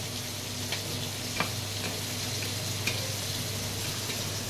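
Prawns frying in a pan with leafy greens, a soft, steady sizzle with occasional small crackles, fairly quiet and even.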